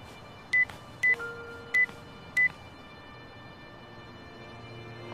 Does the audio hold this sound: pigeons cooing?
no